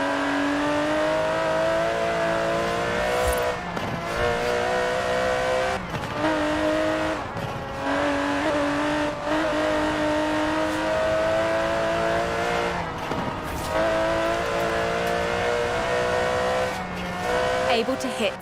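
An Aston Martin DB11 with a 5.2-litre twin-turbo V12 in Forza Horizon 4 revs loudly and close. Its engine note climbs repeatedly, with brief breaks between the rises that sound like gear shifts.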